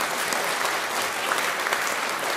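Sustained concert audience clapping for a big band performance with a singer, an even, dense roar of many hands that holds steady throughout with no voices on top.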